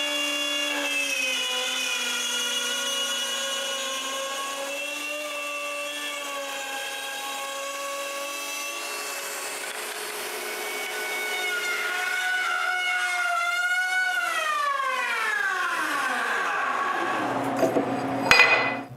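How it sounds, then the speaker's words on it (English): An electric router cuts a mortise into a wooden workbench leg with a sustained high whine that holds steady, then rises and falls in pitch as the bit bites deeper, ending with a sharp spin-down. "Then, using my new router, I cut the mortise."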